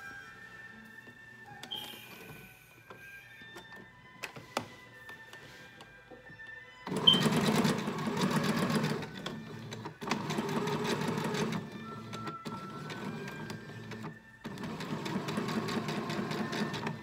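A home sewing machine stay-stitches the neck hole of a garment's front and back yoke, running in three sustained bursts after a quiet stretch of small handling noises, fairly close and loud with no talk.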